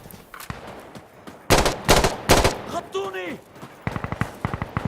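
Loud bursts of gunfire in the video game Insurgency: Sandstorm crack in rapid groups, with a whistling descending tone, followed by a quicker rattle of shots, all fairly close.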